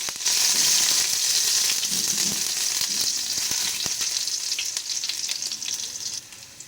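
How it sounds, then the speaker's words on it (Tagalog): Garlic sizzles and crackles steadily in hot olive oil in a pan, a loud, continuous frying hiss with scattered pops that eases slightly toward the end, with no talking over it. "Mainit na ang oil, kaya ilalagay ko na ang bawang"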